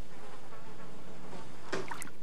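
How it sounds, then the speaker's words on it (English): Bees buzzing inside a box in the film Puppet Master, a steady insect drone under a low rumble, with a brief brighter burst near the end. "Frank's preparing for tonight with a box of bees."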